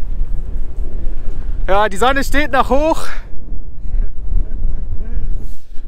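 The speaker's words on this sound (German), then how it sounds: "der Wind kommt quasi von hier" Strong wind buffets the microphone in the Icelandic highlands, loud low rumbling gusts throughout with a person speaking briefly over it.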